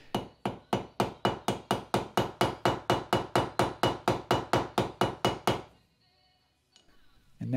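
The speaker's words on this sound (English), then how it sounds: "And now it's time to peen over the cross pin" About twenty evenly paced, ringing hammer blows peen over the cross pin of a homemade hand plane built from a pipe. The close, loud strikes stop after five seconds and leave faint workshop rustling.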